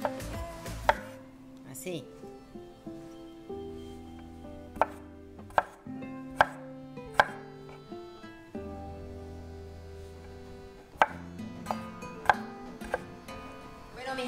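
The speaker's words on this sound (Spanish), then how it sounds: "Entonces los espárragos los vamos a cortar como en zigzag." Asparagus is cut in a zigzag with a knife, a run of sharp, uneven chopping taps on a board, close and clear, over soft background music with a brief spoken word.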